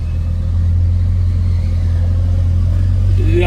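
A full-size Mario Kart car's engine runs with a loud, close, steady low rumble as it pulls away, unbroken by any talking.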